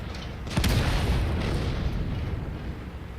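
A single heavy cannon blast from a KV-1S heavy tank in a tank battle game, a loud booming report that rolls off into a long low rumble.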